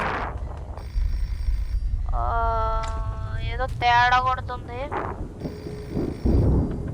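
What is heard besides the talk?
phone ringing in the video game Hello Guest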